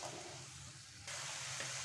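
A spice paste of garlic, ginger, cumin, black pepper, turmeric and red chili frying in hot oil, a quiet continuous sizzle that jumps louder partway through.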